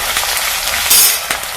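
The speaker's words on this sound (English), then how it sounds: "I'm going to just go ahead and fry my onions" Onions fry in a pan for garlic turmeric fried rice, a loud close hiss of sizzling oil with a few brief spatters and flares over a second and a half.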